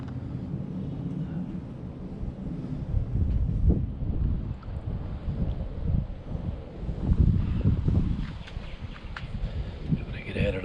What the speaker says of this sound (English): Trying to get out of the wind.